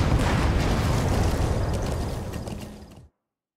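A separator tank explosion in Metal Gear Solid V: The Phantom Pain, heard as a dense roaring, crackling rumble with mechanical clanks that fades steadily over about three seconds before cutting to silence.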